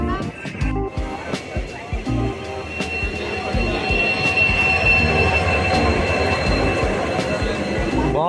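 An Indian Railways train rolls past close by, loud and continuous, with rhythmic wheel clatter and high metallic squealing from the wheels, while people talk over it.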